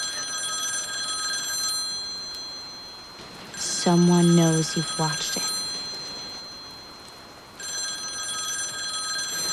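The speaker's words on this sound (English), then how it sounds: "as soon as it's over, your phone rings." A telephone rings in repeated trilling bursts, loud and close, first at the start and again near the end, with a voice speaking between the rings.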